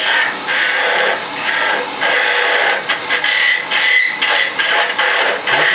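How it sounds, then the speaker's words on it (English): A spindle gouge shaves wood on a lathe while a spinning top is being turned, giving a steady, close, raspy cutting hiss broken by short pauses as the tool lifts off. "And I'm going to work the spindle gouge to shape"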